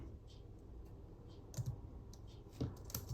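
Keys tapping on a computer keyboard at an MS-DOS machine, soft scattered clicks with a couple of brief bursts of quicker typing, close but quiet over faint background hiss.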